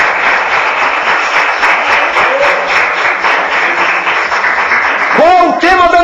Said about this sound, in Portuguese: Quem está feliz, aplaude.